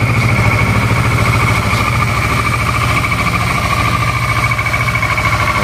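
A Kawasaki Versys 650 motorcycle engine idles close by with a steady, rapid low throb and a continuous mechanical hum, loud and unbroken throughout.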